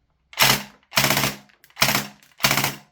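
A VFC M249 gas blowback airsoft machine gun firing light BBs gives four separate loud sharp reports with slight gaps between them, close and without speech.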